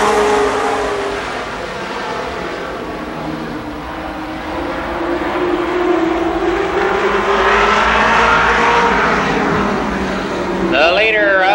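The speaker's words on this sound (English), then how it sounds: "10 laps, the second late model heat race." Late model race cars at Columbus Motor Speedway in 1993 roar steadily through a heat race, engines droning loudly and continuously as they circle the track, with an announcer's voice running over the engine noise.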